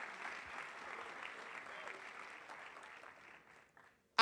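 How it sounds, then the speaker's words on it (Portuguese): A church congregation applauds steadily at moderate volume for a few seconds, then the clapping dies away into near silence before a sudden loud burst at the very end. "Aplauda o Senhor por isso, aleluia."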